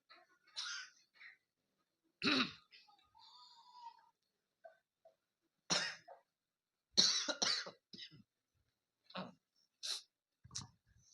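Someone in a church congregation coughs repeatedly, in scattered short bursts with quiet gaps between them, with a few throat clears and soft breaths in a still room.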